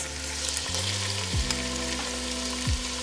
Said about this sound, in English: Now we are going to add, ooh, see, it's nice and warm, the onions and the celery